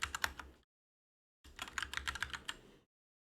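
Rapid typing on a computer keyboard, a quick burst of close clicking keystrokes, then a pause of dead silence before a longer run of steady key taps.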